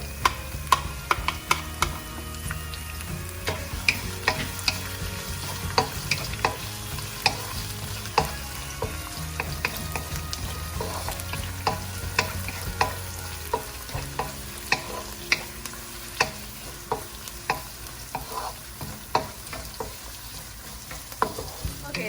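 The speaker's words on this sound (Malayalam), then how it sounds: "സോ ഇപ്പോൾ ഉള്ളി, ഇഞ്ചി, വെളുത്തുള്ളി, കരിവേപ്പില അതെല്ലാം ഇപ്പം നല്ലതായിട്ട് വഴണ്ടു." Onion, ginger, garlic and curry leaves sautéing in a pan for Kerala-style mushroom thoran, a steady close sizzle with frequent crisp pops and spoon stirs throughout.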